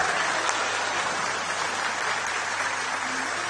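Dense applause from a large audience at a public speech, a steady rain-like patter of many hands clapping continuously at even loudness throughout, with no talking.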